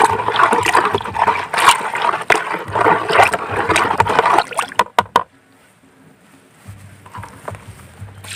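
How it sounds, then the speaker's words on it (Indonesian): Water is poured onto the soil around the roots of a banana plant, a loud splashing gush for about five seconds, then stopping abruptly into near quiet with faint trickles. "Dan selanjutnya kita siram di sekitar perakaran."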